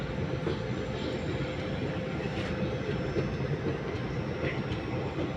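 A passenger train bound for Mizoram rumbles steadily at New Haflong station, its continuous wheel and carriage noise loud and close with no talk.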